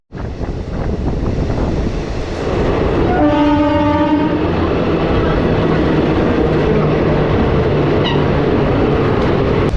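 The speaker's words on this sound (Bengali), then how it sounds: "মাত্র 2 মিনিট দাঁড়িয়ে আমাদের ট্রেন ছেড়ে দিল পরবর্তী স্টেশন বাগনানের উদ্দেশ্যে" A passenger train bound for Digha, leaving a station toward Bagnan, rumbles steadily along the rails, loud and close, with a horn sounding in a long stacked blast partway through over constant wind-like roar.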